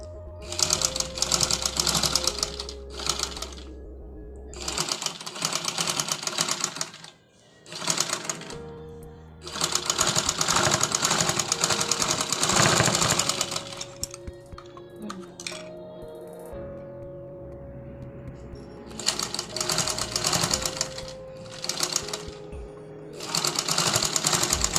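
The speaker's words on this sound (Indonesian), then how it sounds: "Dijahit mulai dari kerung lengan hingga ke sisi." A sewing machine stitches a sleeve to the side seam, running in long loud whirring bursts with short pauses between them, close up with no talking.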